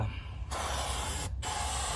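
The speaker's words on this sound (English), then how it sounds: "So we spray and clean and make sure it's super dry" Aerosol cleaner sprayed onto an engine rocker cover seal in two long hissing bursts, the first about half a second and the second running over a second, separated by a short pause, close and steady.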